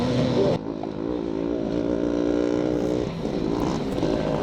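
Motorcycles in a classic charity scramble race in Northern Ireland reach the finish, their engines droning and revving loudly at mid distance in one continuous roar with shifting pitch.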